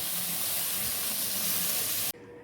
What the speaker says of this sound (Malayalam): ഈ ടൊമാറ്റോ പ്യൂരിക്കകത്ത് കിടന്ന് ഈ സവാളയും ഇൻഗ്രീഡിയൻസും എല്ലാം നന്നായിട്ടൊന്ന് വഴന്ന് വരണം